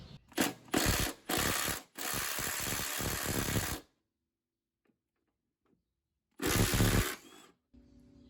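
A 12V 1/4-inch Milwaukee M12 Fuel impact driver hammering on a rear shock bolt, giving loud rapid rattling bursts in several stretches, then a pause and one more short burst, close up with no talk.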